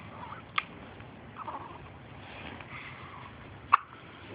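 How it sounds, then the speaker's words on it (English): A person's hiccups, two short sharp catches over a second of quiet background murmur, close and sudden against low room noise. "I have hiccups."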